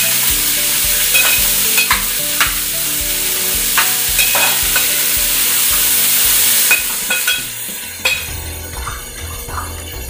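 Chana stir-fried in a pan for spicy chana chatpati, steady close sizzling with repeated scraping and stirring strokes of a spoon against the metal pan, softening toward the end.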